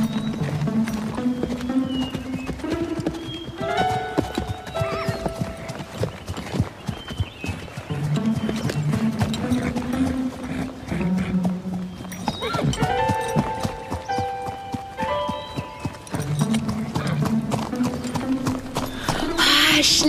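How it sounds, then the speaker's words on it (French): A pony ridden at a steady pace, its hooves clip-clopping loudly and continuously, with music playing over the top throughout. "a une sacrée allure sur ce cheval"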